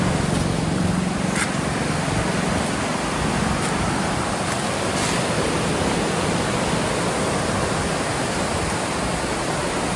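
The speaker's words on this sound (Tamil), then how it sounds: "ஒரு ஃபால்ஸுங்க." A waterfall in the forest valley at Valparai rushes in a dense, constant roar. The broad noise fills the whole clip at a steady level with no breaks.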